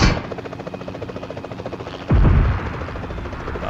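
A helicopter in PUBG Mobile drones with a constant pulsing rotor chop, loud and close, and a sudden heavy low thump partway through briefly swells the noise.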